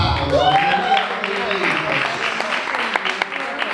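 Audience applause for an artist at a book presentation in a Naples café, clapping rising under a voice and continuing as scattered, moderately loud claps through the rest.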